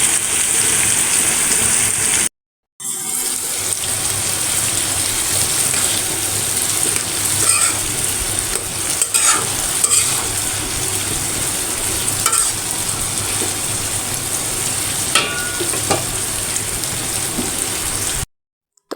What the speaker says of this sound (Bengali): এখন এগুলো উল্টিয়ে পাল্টিয়ে তারপরে একটু পেঁয়াজ দিয়ে এটাকে সুন্দর করে ভাজি করে